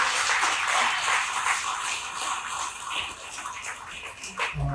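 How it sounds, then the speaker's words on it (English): An audience claps in a steady, dense wash of applause for nurses at a talk by a lymphoma survivor, sustained throughout without speech. "can we give them a round of applause, please?"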